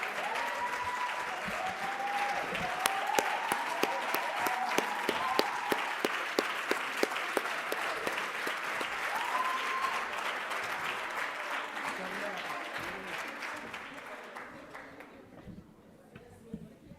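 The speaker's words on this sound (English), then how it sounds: "put your hands together and give a resounding round of applause for the Minister of Energy and Mineral Resources" A large audience at a South African youth economic council event gives sustained, loud applause for the Minister of Energy and Mineral Resources, dense clapping throughout that fades out toward the end.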